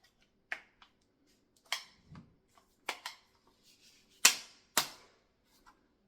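A Kel-Tec Sub2000 Gen3 rifle being folded up gives sharp metallic clicks and snaps, several distinct quiet taps with a couple of louder clacks spaced irregularly over near-silence.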